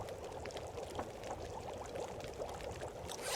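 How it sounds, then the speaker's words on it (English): Pork and beans boil in a pot on a stove in The Long Dark video game, giving a soft, steady bubbling and gurgling wash that is faint and continuous, with no voices. "That's what I was hearing boiling, not the water"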